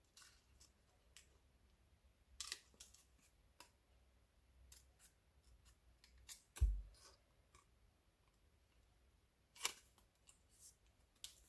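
Scissors snipping card for a photo folio, a handful of quiet, sharp clicks and cuts spaced irregularly, close by in a hushed room.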